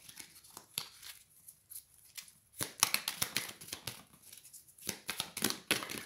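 Tarot cards being shuffled and drawn: quiet, crisp rustling and snapping bursts of card edges riffling against each other, coming in irregular clusters.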